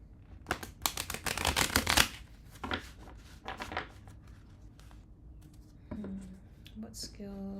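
Tarot cards riffle and shuffle in a quick burst of crisp flutters, followed by a few softer card movements while someone speaks quietly.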